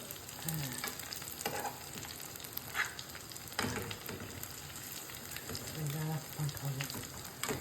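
Mutton kebabs fry in a pan with a continuous crackling sizzle and occasional bursts of louder spattering, some faint scraping or stirring, and no talk over it.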